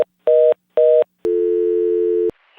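A telephone's unavailable-call tones: two short beeps followed by a longer steady tone, then a clean cutoff, loud and close with silence between.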